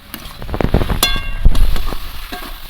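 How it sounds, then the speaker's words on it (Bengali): Mixed vegetables cook with mustard and onion paste and chilli powder in a pan, giving a short, loud burst of sizzling with a clattering stir and a metallic clink partway through. "সর্ষে আর পেঁয়াজ বাটা লঙ্কার গুঁড়ো এখানে একটু ঝাল ঝাল বেশ ভালোই লাগবে মশলাগুলো কষিয়ে নিচ্ছি সবজির সঙ্গে"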